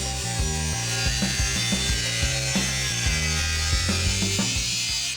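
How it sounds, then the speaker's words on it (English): A cutoff wheel slices through a Jeep grille shell, giving a loud, harsh grinding whine with rhythmic surges as the cut proceeds, close and steady with no talk. "To make this cut, I'll be using a cutoff wheel"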